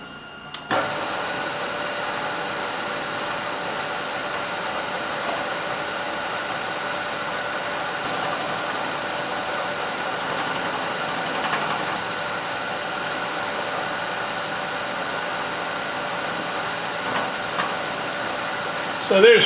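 A vertical milling machine takes a full-width cut across a roughly inch-thick workpiece, giving a steady, loud tonal whine with a constant motor hum throughout and a faint rattling rise in the middle.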